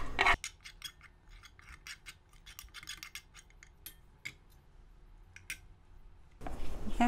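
Okara being mixed in a bowl with an egg substitute and nutritional yeast: close, irregular scraping and clinking strokes of a utensil against the bowl, with short bursts across several seconds and a louder rub at the end.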